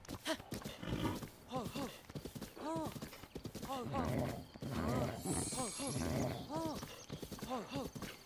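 Horse hoofbeats and clip-clop in the video game Zelda: Breath of the Wild, a steady trotting rhythm running under near, continuous talking throughout.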